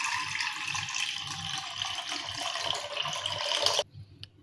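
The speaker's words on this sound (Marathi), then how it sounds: "1 फुल टी कप पाणी टाकून घ्यायचं आहे." Water is poured from a tea cup into a pan of full-fat milk being heated for strawberry falooda. It makes a steady, close splashing rush for nearly four seconds, then stops abruptly, leaving a near-silent tail.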